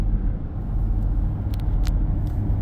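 Low, steady drivetrain rumble fills the cabin as a 2017 Dodge Charger Pursuit AWD V8 with the Street Appearance Package rolls along the road, even and unbroken with faint road noise.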